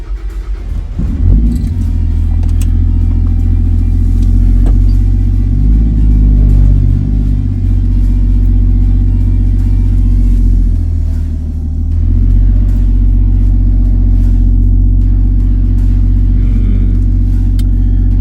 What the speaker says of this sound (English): Seems to be working, but it's making a bit of a whine.